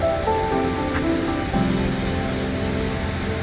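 A waterfall in the Philippines pours in a constant broadband rush, steady and fairly close, with faint tonal whistles or music threading through the first half.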